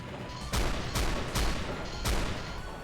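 Agitator machine gun firing in the Doom mod BTSX: four separate heavy bursts spaced roughly half a second to a second apart, loud and close, each a broadband blast with brief gaps between.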